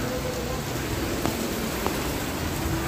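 Steady rain pattering on potted plants in a kitchen garden, an even broadband hiss throughout with a couple of faint distinct drops standing out, no voices.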